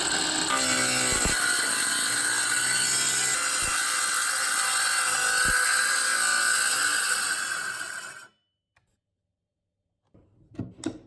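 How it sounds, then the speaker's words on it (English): A power saw cuts into the wooden top layer of a homemade fingerboard skatepark ramp, a loud, steady, close whine running for about eight seconds before spinning down, followed by a few faint knocks. "So I've set the saw to the depth of the top layer and we'll cut into him."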